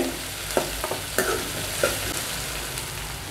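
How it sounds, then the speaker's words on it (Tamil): Onions sauté in a pan for dried fish thokku, a steady crackling sizzle with several distinct scrapes and taps of a stirring spoon, close and without speech. "இப்போ வெங்காயம் கொஞ்சம் லைட்டாக வதங்கியிருக்கு."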